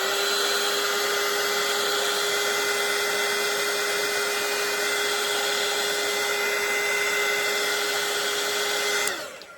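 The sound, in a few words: hair dryer drying a watercolour painting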